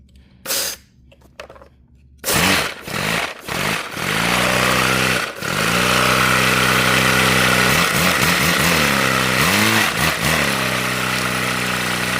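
An inline two-cylinder engine pushed to high pressure, starting with short sputters, then roaring to a loud, steady run with wavering pitch and a few surges, no talking.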